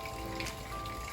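Steady rain pattering on garden plants and leaves, a close, continuous hiss of drops with no voices, during a December downpour.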